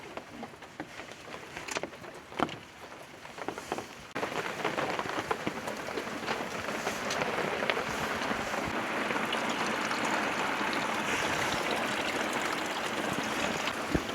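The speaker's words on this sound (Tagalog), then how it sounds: "malakas yung ulan" Heavy rain falls at a campsite, starting as scattered drops and pattering, then becoming a dense, steady hiss of rain on surfaces.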